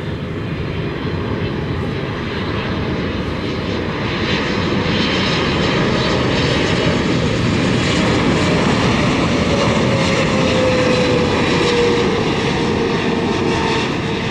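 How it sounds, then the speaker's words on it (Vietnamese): A Cathay Pacific Cargo Boeing 747-400F lands at Tan Son Nhat airport in light fog, its engines a loud, continuous roar that holds steady and swells slightly across the whole stretch. "bây giờ mời mọi người chiêm ngưỡng pha hạ cánh của chiếc máy bay này nhé"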